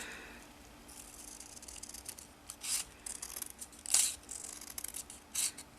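Scissors snipping through strips of paper for paper beads, a few quick, close, crisp cuts with soft rustling of paper between them; no talking.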